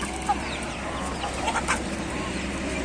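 Chickens cluck softly in a small flock, scattered short calls over a steady low outdoor hum, with no talking.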